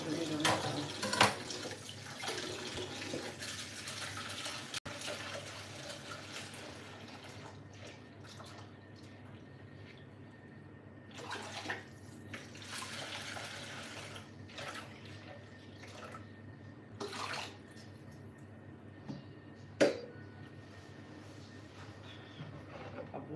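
Fresh garden thyme is washed under a running kitchen tap: a steady rush of water for the first several seconds gives way to quieter trickles, drips and handling noises.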